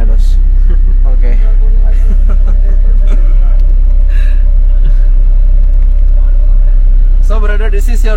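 An economy AC sleeper bus drives through India with a heavy, constant low road rumble filling the cabin, while passengers talk and laugh over it close by.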